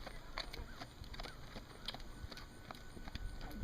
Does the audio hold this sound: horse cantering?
yes